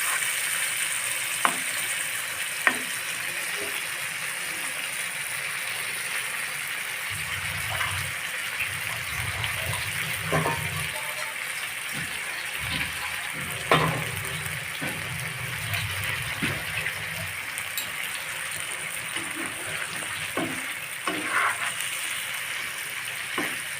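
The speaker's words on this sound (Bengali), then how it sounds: "যাতে মশলাটা নিচে পুড়ে না উঠে সেখানে আমি একটু সামান্য জল দিলাম" Masala frying in a pan for a fish telani, hissing steadily after a splash of water, with occasional scrapes and clinks of a spatula stirring through the steady sizzle.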